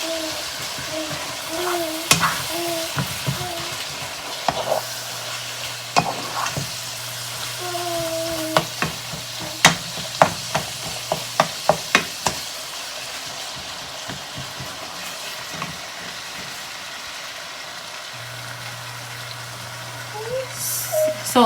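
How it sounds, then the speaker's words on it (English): Slow cooker chili being stirred, a soft bubbling sizzle with scattered spoon clicks and taps, a low hum underneath, and no talking. "So I'll just give it another quick stir."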